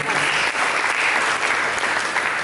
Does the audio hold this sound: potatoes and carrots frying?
no